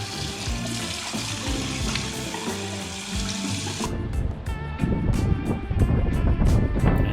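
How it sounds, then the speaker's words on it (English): Water runs hard over an Intex filter pump cartridge as it is rinsed clean, a loud continuous splashing gush that grows heavier and more turbulent partway through. "Go and clean it, give it a good wash"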